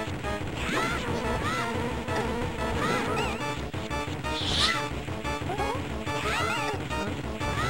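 Buzzing insect sounds from decoys turning into bees during the Mothula boss fight in Zelda: A Link to the Past on GBA, layered over busy game music and effects with no pause throughout.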